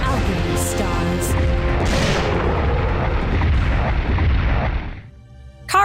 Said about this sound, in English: With a little help from a rail cannon, Jill is finally able to defeat her pursuer once and for all.